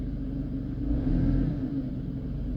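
A 2004 Mercedes C230 W203 with a 1.8 engine idles with a steady low rumble that swells briefly as the transmission is shifted between drive and reverse, close and continuous with no talk.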